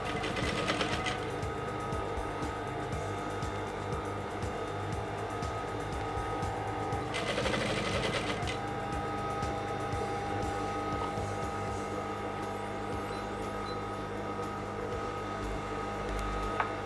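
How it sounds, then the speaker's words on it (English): A sewing machine runs steadily at close range, top stitching through the middle of a Yoruba fila cap to hold its lining, with two brief louder bursts of stitching over a constant motor hum and no talking. "Now I'm top stitching at the middle of the cap in order to hold the lining in"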